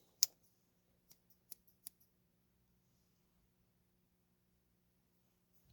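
Spring-loaded scissors on a Gerber Center Drive or MP400 multitool snapping open and shut, a faint quiet series of sharp metallic clicks, one louder snap, then a few quick clicks and another at the end.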